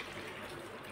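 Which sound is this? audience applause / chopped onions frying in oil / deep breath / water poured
water poured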